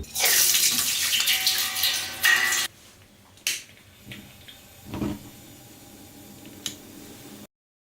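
Tap water gushes loudly into a pot for a couple of seconds, then stops, followed by a few quieter clanks and splashes.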